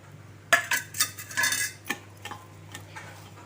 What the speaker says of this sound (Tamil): இப்போ இதோட சேர்த்து நல்லா பெசரி விட்டுடலாம்